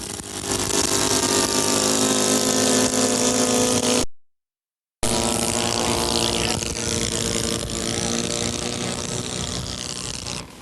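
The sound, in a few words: OS 1.64 four-stroke engine of a model airplane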